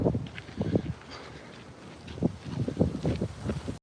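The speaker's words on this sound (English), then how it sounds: "now the wind's kicking in" Wind buffets a microphone on a ridge at Kilauea, coming in uneven low gusts and rumbling bursts with quieter lulls between, close and moderately loud.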